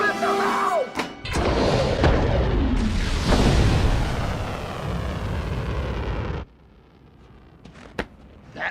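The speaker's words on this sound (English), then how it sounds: "Launch the missile now!" A missile launch in the animated film The Iron Giant: a loud rumbling roar of rocket thrust with heavy thuds, sustained for several seconds before cutting off abruptly, followed by quieter sounds and brief clicks.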